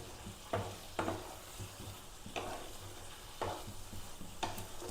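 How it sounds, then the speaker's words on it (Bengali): Cauliflower and egg curry stir-frying in a pan, a soft continuous sizzle broken by five evenly spaced scraping strokes of a spatula, close and fairly quiet with no talking. "এটা আমি ভালো করে একটু কষবো।"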